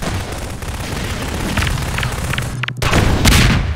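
A rocket launcher blast in a Half-Life 2 Deathmatch match rises out of steady game noise as a booming explosion, with another heavy burst near the end, loud and close.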